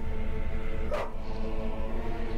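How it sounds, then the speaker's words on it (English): Dogs bark in The Witcher video game, a single short yelp or bark standing out briefly over a steady background of in-game ambience and music. "What are those dogs doing?"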